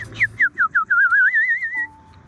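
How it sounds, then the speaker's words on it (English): Outdoors at Rudyard Lake, a clear bird call is heard close and loud: a run of quick rising whistled notes, then a wavering sustained whistle and a lower steady tone. "I can hear birds."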